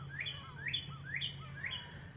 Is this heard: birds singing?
yes